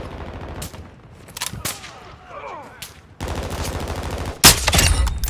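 Gunfire in Call of Duty: Modern Warfare II, with scattered sharp shots, then sustained close automatic bursts and a heavy blast near the end, mixed with game effects.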